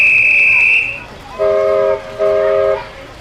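A steam train sounds its whistle in long, loud blasts, one high tone then two sustained chord-like toots, with rumbling movement beneath.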